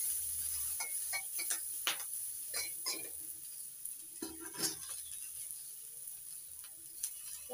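A utensil scrapes and taps in a pan as water lily and small fish are stirred with salt, turmeric and green chilli, irregular clinks and scrapes over a soft steady sizzle, with no talking.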